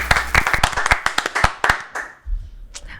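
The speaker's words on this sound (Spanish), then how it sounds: "el día de hoy tenemos un gran invitado para el que pido un fuerte aplauso, Eduardo González." Scattered hand claps from a small studio audience welcoming a guest on a talk show, irregular and fairly close, fading out after about two seconds into a low rumble.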